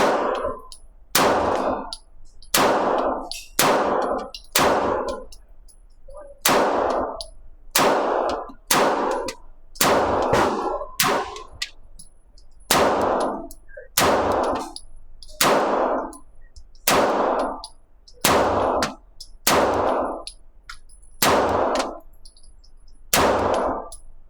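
Sig Sauer P320 Flux Raider Legion 9mm pistol firing repeatedly, about twenty loud sharp gunshots at a steady, slightly uneven pace, each with a short ringing tail and no voices.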